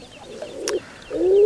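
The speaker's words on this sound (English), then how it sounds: "Can you hear that dove? Not dove, pigeon." A pigeon coos by a fishing pond at a match fishery, giving two short, soft, rounded calls close by against steady outdoor background noise.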